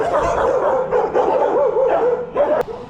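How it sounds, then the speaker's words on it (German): Several dogs bark in a street in Peru, loud and close, with overlapping yips and whimpering barks running continuously. "Das sind ein paar Hunde auf jeden Fall."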